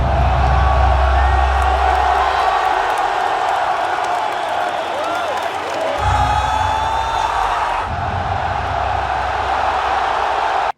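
Audience cheering and whooping at the Unreal Engine 6 reveal, a sustained crowd roar with shouts, loud throughout and shifting in texture midway.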